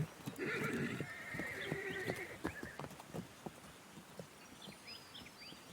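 Wild horses in the Australian Alps whinny loudly and close for about two seconds, followed by a scatter of hoofbeats that fade into soft, irregular thuds.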